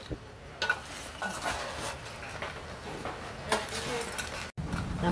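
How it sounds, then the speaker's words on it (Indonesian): Crab pieces tossed by hand with tapioca or corn flour and garlic in a kitchen bowl, giving soft wet squelching and light clinks of the bowl in a steady rhythm, close and fairly quiet. "gaulkan ketam bersama tepung ubi atau tepung jagung bersama bawang putih"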